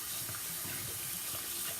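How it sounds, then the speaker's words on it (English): Water runs steadily from a bathroom tap while someone rinses their face after a shave, a constant close hiss with faint splashing and no talking. "I just rinse my face off"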